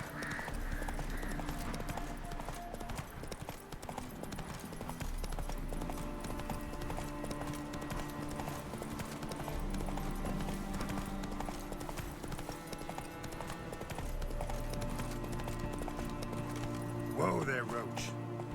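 Hooves of Roach, Geralt's horse in The Witcher 3: Wild Hunt, clip-clop steadily at a brisk pace for the whole stretch over a layered game backdrop, with a short flourish near the end.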